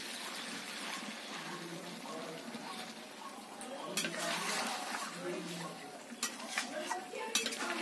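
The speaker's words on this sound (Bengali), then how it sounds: "এতে দিয়ে দেব আগে থেকে করে রাখা গরম জল।" Hot water is poured into chicken curry simmering in a pan, with a steady close pouring and sizzling wash broken by clinks of a utensil against the pan.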